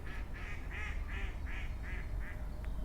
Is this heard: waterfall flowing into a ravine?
no